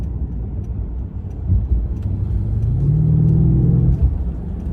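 A 2015 Mercedes S550 4Matic coupe engine hums and growls steadily while cruising on the interstate, rising into a deeper, louder drone midway before easing back.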